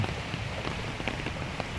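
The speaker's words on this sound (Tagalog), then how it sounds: "wala nang baha pero patuloy na umuulan" Steady rain falling on a surface nearby, a continuous patter with scattered distinct drops.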